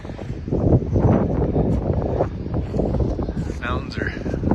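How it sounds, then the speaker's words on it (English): Strong wind buffets the microphone outdoors on a snowy mountain road, a loud continuous roaring rumble, while someone talks over it. "It's windy."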